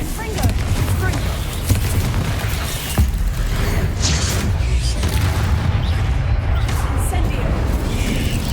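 Confringo and Incendio spell blasts in Hogwarts Legacy, a steady run of booming bursts over a dense, constant rumble, with a sharper burst near the middle and a voice speaking throughout.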